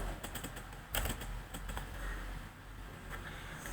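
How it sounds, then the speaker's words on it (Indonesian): Keys clatter on a computer keyboard as a command is typed into a Linux Ubuntu server terminal, a short, close, quick run of taps without talk. "Ya, langsung kita ketikkan tipe. Kita ketikkan alias."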